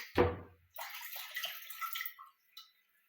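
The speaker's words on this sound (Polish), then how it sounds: "Wyciągnijcie kubek z wody i wodę wylejcie do zlewu" A short splash is followed by water pouring and trickling into a sink for a couple of seconds, ending with a final drip.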